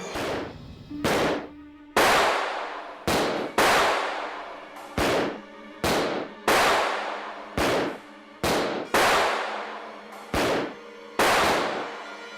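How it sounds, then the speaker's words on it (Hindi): A string of about a dozen sharp, loud gunshots in a TV drama, each with a ringing decay, coming at uneven intervals, with no talking. "ये गोलियों की आवाज कैसे कहां से आ रही है?"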